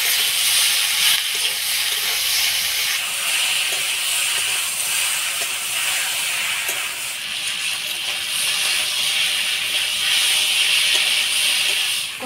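Steamed taro stolons with dried shrimp, turmeric and salt sizzle steadily in a hot pan while being stirred, a continuous bright hiss with faint scraping throughout and no talking.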